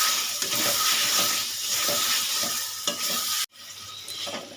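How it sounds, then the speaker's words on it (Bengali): Spicy duck meat being stir-fried in a pan, with a steady loud sizzle and repeated scraping stirs; the sizzle briefly cuts out near the end, then resumes more quietly. "ভালো করে কষিয়ে নিলাম"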